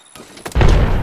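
A frag grenade goes off in a video game with a sudden, loud, deep boom about halfway through, after a brief quieter lead-in.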